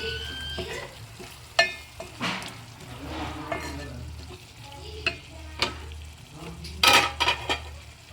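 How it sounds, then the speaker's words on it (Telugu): Masala spices frying in a pan for a prawn and brinjal curry, with a steady low sizzle and intermittent scraping stirs and clinks of a spoon against the metal, close and moderately loud, no talking. "ఇప్పుడు ఇది కొంచెం ఫ్రై అవ్వాలి"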